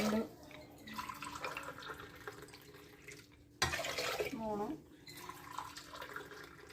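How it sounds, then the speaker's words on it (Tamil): Water pours from a vessel into rice and lentils for pongal, a splashing, gurgling stream that stops briefly and then starts again with a louder rush, while someone talks over it. "இந்த மாதிரி தண்ணி ஊற்றிக்கோங்க"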